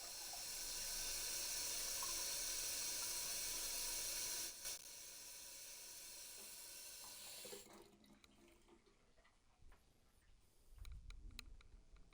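A tap runs in a steady, strong hiss for several seconds, then shuts off, leaving quieter room noise with a few handling bumps.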